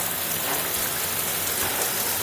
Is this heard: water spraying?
yes